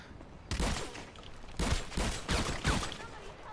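Gunfire in the video game GTA 5 as an armed suspect is shot: four sharp bursts of several rapid shots each, spaced about a second apart, loud and close.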